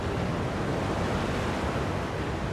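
Steady, full rushing of water fills the Gongaga region of Final Fantasy VII Rebirth as the water level shifts. The roar is continuous and even, with no voices over it.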